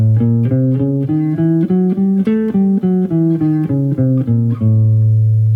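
A guitar plays a brisk run of single notes up and back down an E half-whole diminished scale, evenly picked, ending on a held low note.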